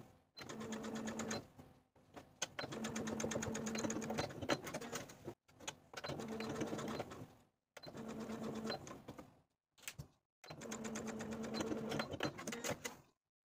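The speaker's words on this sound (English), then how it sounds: "we're going to take it to the sewing machine and stitch in the ditch of the shoulder seams" A sewing machine stitches in the ditch along a dress's shoulder seams, running in five steady whirring bursts separated by short pauses, close and moderately quiet.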